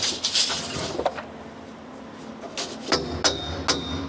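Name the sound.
hammer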